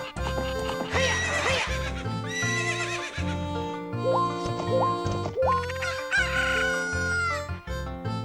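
A synthesized horse whinnies over bouncy electronic music in The Legend of Zelda: Ocarina of Time, with rooster-like crowing and clip-clop hoofbeats in the mix.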